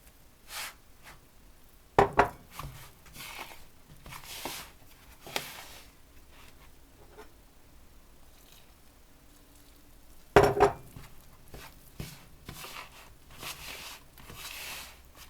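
Boiling water poured into flour for Ukrainian cream dumpling dough and stirred with a spoon in a bowl, heard as quiet scraping and stirring with a couple of sharp clinks of spoon against the bowl.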